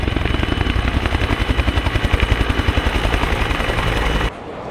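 A Royal Navy Westland Wessex HU-5 helicopter flies at the 1966 Farnborough Airshow, its rotor beating in loud, steady rhythmic chops over engine roar before an abrupt cut near the end.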